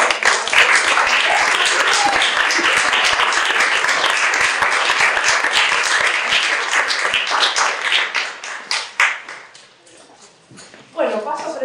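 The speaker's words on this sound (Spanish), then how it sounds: "a quien le tenemos que dar un gran aplauso por su nombre" An audience at an anthropology museum panel session applauds the panel coordinator with dense, loud clapping for several seconds. The clapping thins out and fades, then a voice begins speaking at the end.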